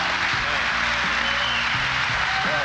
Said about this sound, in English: You gets a huge round of applause.